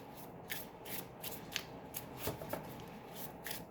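Tarot cards being shuffled by hand, a steady run of riffling and sliding bursts in quick succession, close and clear with no speech.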